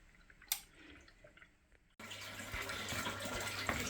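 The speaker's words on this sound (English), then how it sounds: "the pump's working, but it's still filling up the system" Aquarium canister filter pump filling its system with water: soft drips and trickles at first, then an abrupt switch to a steady rushing flow of water with a low hum underneath, close and continuous.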